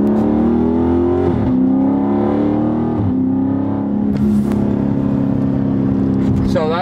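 A Dodge Charger Scat Pack with the super track pack launching hard from inside the cabin, a loud steady engine drone rising and shifting in pitch as it accelerates, with a brief whine near the end.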